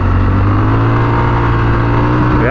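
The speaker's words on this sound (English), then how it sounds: "Off-road mode, let's see how it does with like acceleration off-road." A Triumph Scrambler 1200 XE motorcycle accelerating off-road in off-road mode, a loud, close engine drone that holds steady and then rises sharply in pitch at the end.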